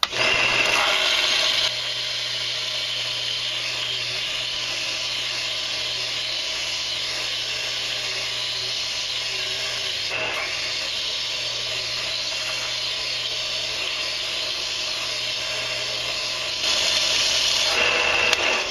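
A loud, continuous grinding whine of a belt sander grinding a metal rod, sustained and harsh throughout with slight swells near the start and end.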